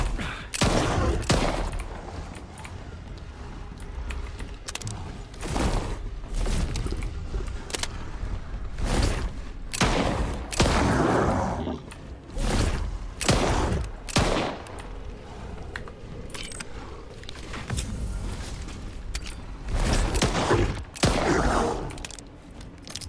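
Heavy gunfire in the video game STALKER 2, loud repeated bursts and single shots cracking close throughout, with sustained rattling volleys and no clear talk.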